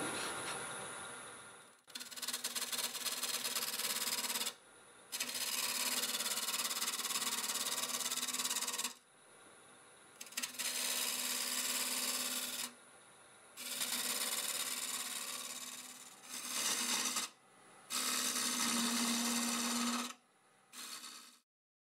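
A freshly sharpened half-inch bowl gouge cuts into a segmented wood bowl spinning on a lathe at about 1200 RPM. Loud, continuous scraping and hissing comes in several long passes, separated by short pauses, all up close.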